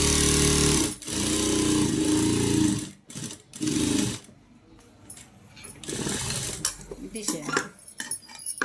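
A sewing machine stitches a petticoat with a steady, close mechanical hum for about three seconds. The hum then breaks into scattered clatter and handling noises.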